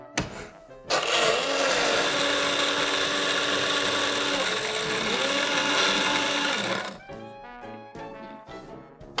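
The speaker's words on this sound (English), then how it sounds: "stick it in the blender." A blender whirs loudly and steadily for about six seconds, crushing ice with rum for a frozen daiquiri, then cuts off to a quieter room with faint clinks.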